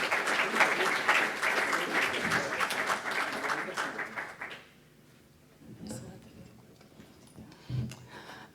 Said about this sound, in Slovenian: Kar z enim aplavzom jih pospremimo.